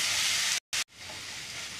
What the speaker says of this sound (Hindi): देखिए आप ऐसे घुमा घुमा कर 1 मिनट तक इसको भून लीजिए